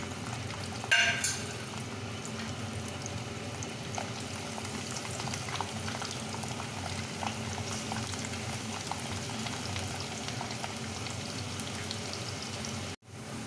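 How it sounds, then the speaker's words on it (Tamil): Garlic sautés in plenty of hot sesame oil for a perandai pickle, giving a steady, moderate bubbling sizzle that runs evenly throughout with no talking. "நல்லா காஞ்சதும் வெள்ளைப்பூடை போட்டு வதக்கணும்."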